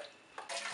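Broth poured into a pan for soup, a short, close splashing pour that swells louder partway through and continues to the end.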